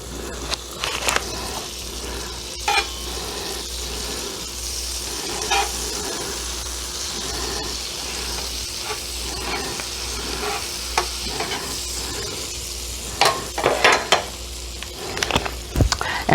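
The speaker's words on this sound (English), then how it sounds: "I'm going to go ahead and make me 2 over medium eggs" Two eggs frying over medium in a pan beside French toast on the same cooktop, giving a steady, close sizzle and hiss with occasional scraping and stirring clicks, no talking.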